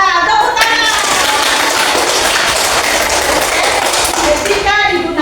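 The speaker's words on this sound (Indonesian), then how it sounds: "Ya, tepuk tangan." A school class claps hands together, a dense steady burst of clapping lasting several seconds, loud and close, with some children's voices mixed in.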